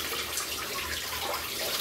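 Hot water poured from a container over the engine pulleys of a Ford Focus during a water pump job, a steady close splashing wash that runs on without a break.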